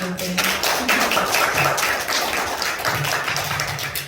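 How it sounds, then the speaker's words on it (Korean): A convention audience at a fashion show breaks into applause, a dense burst of many hands clapping close and loud for a few seconds. "박수 한번 하세요"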